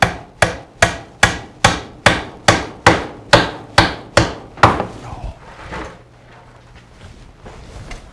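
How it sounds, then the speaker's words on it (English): A sinker nail is hammered through a shim up into a basement joist: about a dozen sharp, evenly spaced wooden blows, close and loud, followed by quieter shuffling handling noise. "we'll just nail a sinker through the shim up into the joist"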